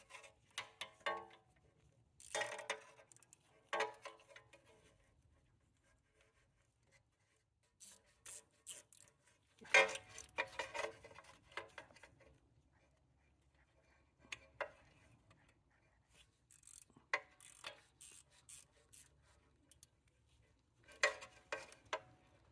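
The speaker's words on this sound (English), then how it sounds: "now just tightening up our T30 bolt in there" A T30 Torx bolt is tightened on a 2012+ Tesla Model S while the rear ABS wheel speed sensor is replaced. The tool gives quiet, intermittent bursts of ratcheting clicks and rasps separated by near-silent pauses, with no talking.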